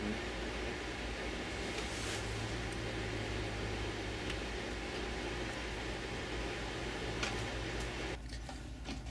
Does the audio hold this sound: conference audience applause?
no